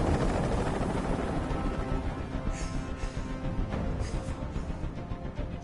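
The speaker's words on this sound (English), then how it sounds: "I can't stand that noise anymore. Tell that helicopter to get out of here." Helicopter rotor drone in the video game Detroit: Become Human, a steady loud low rumble with broadband wash that runs the whole time, no speech over it.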